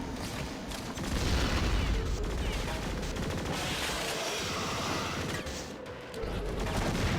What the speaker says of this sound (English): The real soundtrack of this game is the constant gunfire and explosions.